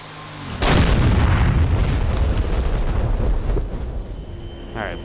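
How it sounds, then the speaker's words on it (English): Bombs dropped from an A-10C Warthog explode in the DCS combat flight game: a sudden loud blast at about half a second, then a long rumbling roar that slowly fades, with no talk over it. "Alright, bombs found their marks."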